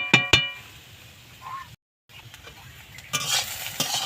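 Egg and snake gourd are stirred in a kadai over a wood fire: a few sharp clinks of a utensil against the pan open the sound, followed by a soft sizzle and bursts of scraping and frying noise.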